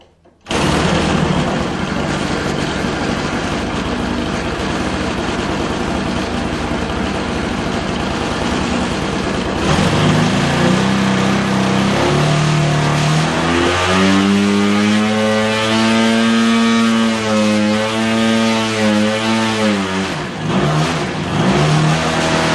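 A small MVVS 26cc gasoline model airplane engine cranks and catches, running with a loud buzzing drone that revs up and down in pitch before settling, close up.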